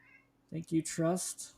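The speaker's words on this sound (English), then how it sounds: "I just triggered my cat." A house cat lets out a short series of close meows, rising into a drawn-out cry, fairly quiet and heard alone.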